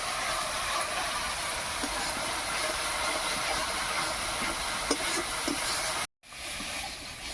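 Chilli powder, onion and garlic masala frying in a pan for a tilapia curry, giving a steady, even hiss of sizzling oil with a few faint clicks, broken by a brief cut to silence near the end before the sizzle resumes.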